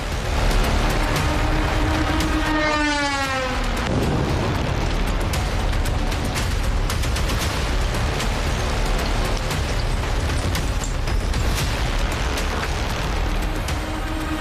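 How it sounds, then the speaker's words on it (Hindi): A drone strike on a US base in Iraq: a short falling whine is followed by a heavy blast that becomes a long, loud, rumbling roar with no voices. "पलक झपकते ही वहां धमाका सुनाई दिया।"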